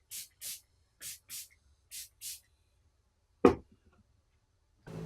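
Pixie Glow Mist facial mist is spritzed onto a face in quick pairs of soft, close hissing sprays, three doubled bursts in a row, followed by a sharp louder bump and a brief rustle.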